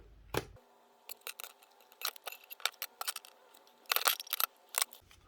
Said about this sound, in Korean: 마찬가지로 양면 테이프로 작업을 해보도록 하겠습니다.